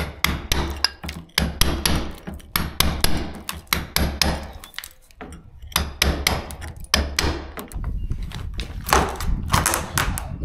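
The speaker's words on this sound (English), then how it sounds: "I just need to tip that off now with a chisel" Repeated sharp hammer strikes on a chisel knocking plaster off a door frame in a derelict cottage, irregular bursts of close metallic knocks with short pauses, steady and fairly loud throughout.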